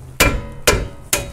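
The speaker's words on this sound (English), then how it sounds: "I'm gonna hit the wrench with this part of the hammer" Three sharp metallic strikes of a hammer's side against a wrench on a Chrysler 200 rear brake bolt, evenly spaced about half a second apart, loud and close with quick ringing decay.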